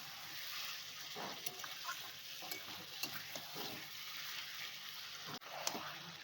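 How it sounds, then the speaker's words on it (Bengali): Chicken pieces are stir-fried with potatoes in hot oil in a pan, giving a steady soft sizzle broken by repeated spoon scrapes and clacks against the pan. "মাংসটা অ্যাড করে দিলাম, মাংসটা ভালো করে এবার কষবো"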